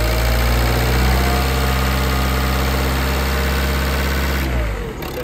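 Ford Grand C-Max 1.6 TDCi diesel from 2013 idling close up, a loud, steady low rumble with constant vibration that cuts off just before the end.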